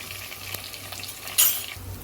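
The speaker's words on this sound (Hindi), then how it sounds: "अच्छे से इसको भून लेंगे।" Ginger garlic paste frying in a pan while being stirred, a soft steady sizzle with a brief scrape of stirring midway, close and alone without talk.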